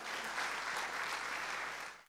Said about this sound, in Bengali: দর্শকদের জন্য একটা জোরে করতালি আশা করছি আমরা।